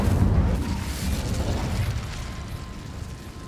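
Incendio fire spell in Hogwarts Legacy: a continuous whooshing, roaring burst of flame with crackling texture, loud at first and gradually easing off, no voices.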